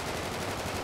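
Gunfire aimed at a helicopter's rotors in GTA 5, heard as a steady loud burst of rapid machine-gun shots filling the whole short moment.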